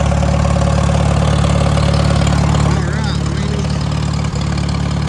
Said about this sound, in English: Put the carburetor back on and she fired right up once I got the battery hot.